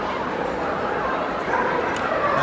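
Dogs in a working trials display at Crufts give short yips and whimpering barks over a steady background of crowd and hall noise.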